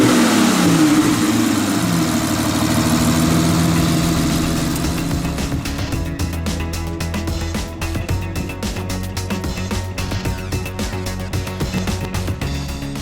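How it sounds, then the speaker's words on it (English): A 2005 Aston Martin Vanquish S with a naturally aspirated 6-liter V12 and six-speed manual roars loudly under acceleration, then settles into a steady, rough, throbbing drone, with no voices. "Power for the V12 Vanquish S comes from a naturally aspirated 6-liter V12 engine"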